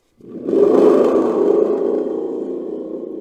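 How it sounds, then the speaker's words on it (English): A thunder drum is struck once, swelling into a deep rumbling roar that slowly fades over a few seconds. "which is the sound of a thunder drum"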